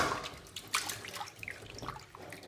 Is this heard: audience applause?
no